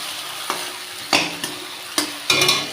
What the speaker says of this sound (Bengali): আর একটু কালো জিরা ফোড়নে দিলাম।